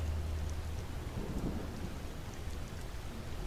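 Steady rain falls across a landscape, a dense continuous wash with low rumbling undertones like distant thunder, even and unbroken throughout with no voices.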